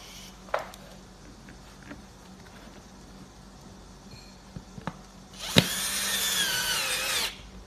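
A power drill or electric screwdriver drives screws during assembly of a Normad 3 chair, a steady whirring burst of about two seconds near the end, preceded by scattered knocks and small handling clicks.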